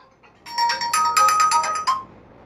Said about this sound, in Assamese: কোনেনো ফোন কৰে।